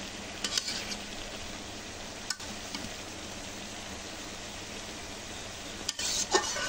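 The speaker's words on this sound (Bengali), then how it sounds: "মাছটা তরকারির সাথে মিশিয়ে দেব।" Small fish being stirred into a sizzling curry in a pan for a molida dish: a steady hiss of frying underlies a few soft scraping stirs, close by, with no voices.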